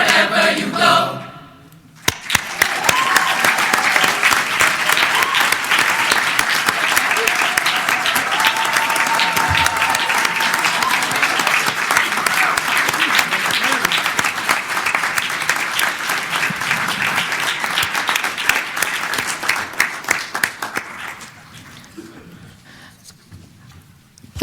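An audience breaks into loud, sustained applause lasting about twenty seconds, dense clapping that swells and then gradually thins out.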